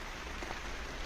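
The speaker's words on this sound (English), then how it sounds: "except now it's raining" Steady rain falls outside a workshop where a 1944 Dodge truck is being repainted, a dense, even hiss of drops on surfaces with no voices.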